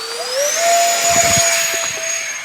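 An E-flite Habu STS 70mm electric ducted-fan RC jet spooling up to full throttle, a loud rising whine that settles into a steady high-pitched roar, close by, with a little low thumping beneath.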